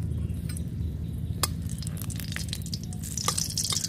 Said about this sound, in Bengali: টক শাক রান্না করার জন্য দুটো ফোড়নে দিয়ে দিচ্ছি আমি শুকনো লঙ্কা